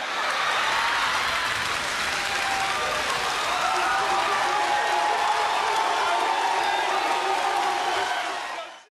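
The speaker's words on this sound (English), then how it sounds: "When he dropped the mic, the crowd gave him a standing ovation" A large comedy-show audience gives Bernie Mac a standing ovation, a dense, loud, sustained roar of applause and cheering that holds steady throughout before cutting off abruptly.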